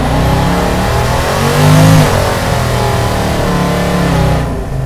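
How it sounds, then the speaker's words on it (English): A pro-charged Hemi in a 1968 Plymouth Road Runner revs hard during a burnout, a loud, steady engine roar that swells near the middle and then holds, close by with no talk. "Did a little burnout, a little bit."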